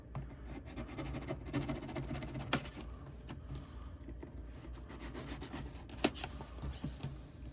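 A well-worn utility knife slices through the cardboard of a box holding a Carisma MSA-1E 1/24 scale crawler, giving close, steady scraping and rasping strokes with a couple of sharp snaps along the way and no talking.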